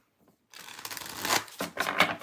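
A deck of tarot cards is shuffled in a few quick riffling bursts, soft and close, with brief pauses between the papery flutters and no talking.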